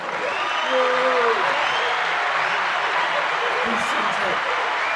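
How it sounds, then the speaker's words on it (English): A studio audience at a comedy test show bursts into steady, loud applause, with voices and talk mixed in over the clapping. "And we'll have a round of applause for that one,"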